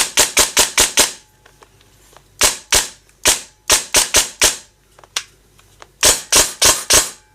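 A Krytac Vector airsoft gun fires in quick bursts of sharp, loud snapping shots, about twenty in clusters of two to five, each with a metallic spring twang, close by with short pauses between bursts.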